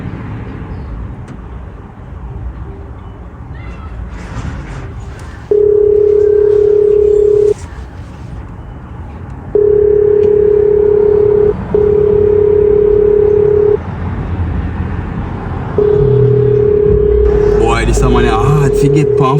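A telephone receiver sounds a steady dial tone in repeated long bursts, loud and close, broken by short gaps, with traffic noise and a voice audible underneath.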